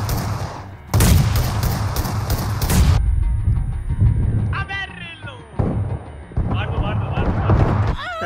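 M4 rifle fire in a team deathmatch shooter game, a dense loud burst of automatic shots with more bursts later, under excited talking and game effects.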